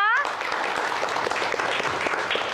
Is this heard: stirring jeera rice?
no